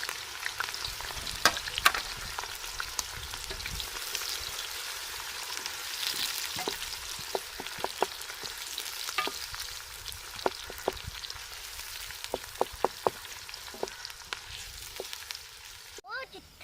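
Onions sizzle steadily in hot oil in a village kitchen while kaleji masala is cooked. The frying hiss runs throughout, broken by occasional sharp clicks and scrapes of stirring, with a brief clatter near the end.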